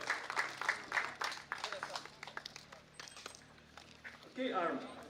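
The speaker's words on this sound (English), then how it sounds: "some applause for the winner" Applause and scattered clapping from a crowd at a stage finish of a cycling race in Panevėžys, Lithuania, rising and falling in bursts beneath a commentator speaking over a loudspeaker.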